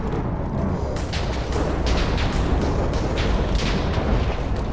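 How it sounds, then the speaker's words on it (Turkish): A continuous rumbling roar of blasts with repeated sharp cracks and booms layered on top, loud and sustained throughout. "Çok fena patlama."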